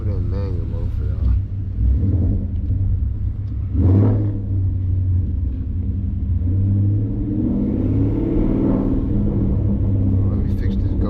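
A Ford Mustang GT with longtube catless headers, its engine a deep continuous rumble swelling into revs while driving at night, with people talking over it.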